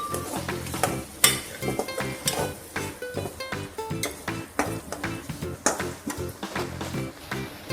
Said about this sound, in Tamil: பன்னீர் பார்த்தீங்களா எவ்வளோ அழகாக பொரிஞ்சிட்டு இருக்குன்னு